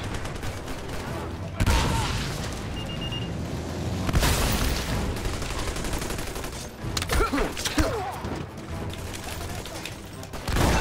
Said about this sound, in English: I'm just shooting randomly.